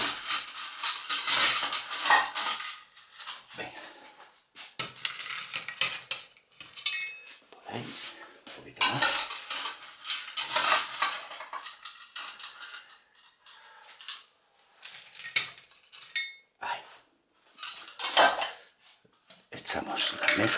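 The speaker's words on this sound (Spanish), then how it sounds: "Le echamos un poco de hielo picado." Crushed ice clatters into a cocktail glass for a mango and chamoy margarita, heard as a run of close, bright clinks and rattles in bursts with short pauses, no talking over it.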